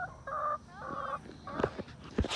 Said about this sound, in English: Zoe, we're missing a red chicken.